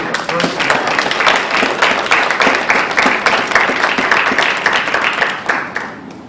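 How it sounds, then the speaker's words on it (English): Audience applause from a crowd at a community activism event, sustained dense clapping lasting several seconds and fading at the end. "I want you to applaud these people"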